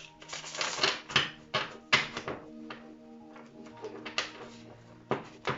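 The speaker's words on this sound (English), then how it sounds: "I'll start by giving you a little bit of shuffling so that we can start right away with your cards" A deck of tarot cards is shuffled by hand, producing a run of sharp riffling bursts and soft taps at an uneven rhythm, close and fairly quiet, with no talking.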